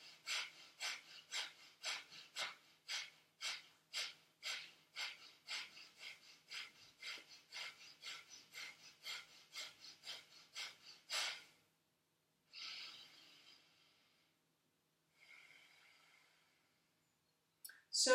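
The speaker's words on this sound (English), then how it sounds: "taking a deep breath, I exhale, belly moves in, and then I begin exhaling." Kapalabhati yoga breathing: a long run of rapid, rhythmic forceful exhalations through the nose, about two per second and close up, then a pause and a few slower breaths.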